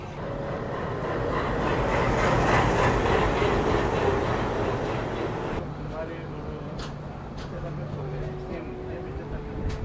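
The Sampark Kranti Express runs on rails in India with a steady loud rumble and rattle from inside the train, then the tone shifts partway through, with some faint clicks and a thin whine over the running noise.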